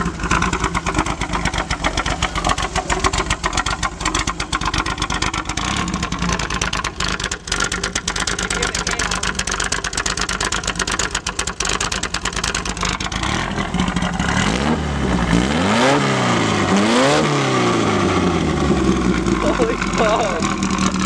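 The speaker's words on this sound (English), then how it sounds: "So I'm gonna turn it on and I'm gonna rev it a little bit." A rebuilt 1960 Volkswagen Beetle engine fires up and settles into a loud, close, steady chattering idle, then revs in several rising and falling sweeps toward the end, with no one speaking over it.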